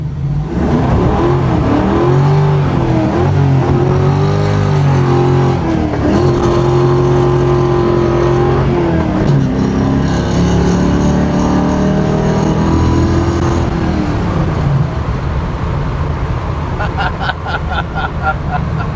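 A 1969 Chevrolet Camaro Z/28 daily driver's engine revs and pulls hard while driving, its loud, steady roar rising and falling through gear changes for the full stretch, heard close from inside the car.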